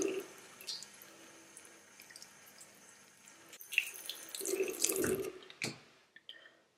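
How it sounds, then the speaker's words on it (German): Running tap water rinses makeup brushes at a sink, a soft steady trickle with occasional louder splashes and drips as the bristles are worked under the stream. "Und das spüle ich dann halt auch wieder mit dem fließenden Wasser aus."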